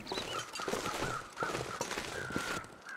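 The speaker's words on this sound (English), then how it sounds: "Hear the birds chirping." Crows cawing in the video game The Long Dark, with a few short calls spread across the clip over a steady windy ambient bed and no talk.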